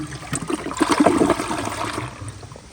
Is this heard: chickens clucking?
no